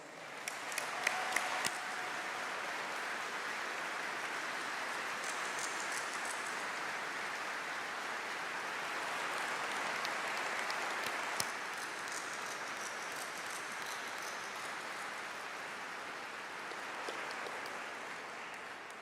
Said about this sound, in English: we will give you a round of applause, which is well deserved